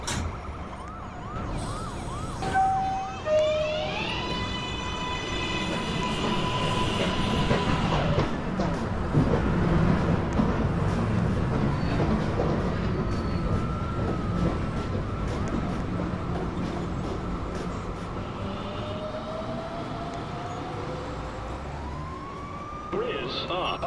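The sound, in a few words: New York subway 2 train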